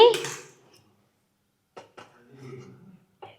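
A kadai pan lands on a stove with a single close metallic clank, then the kitchen goes quiet before a person speaks briefly.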